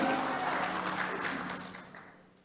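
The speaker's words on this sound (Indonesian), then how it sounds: "Tepuk tangan buat saudara saya" A crowd at a national dialogue event on sustainable development applauds a guest, with dense clapping that is full at first and then steadily fades away over a couple of seconds.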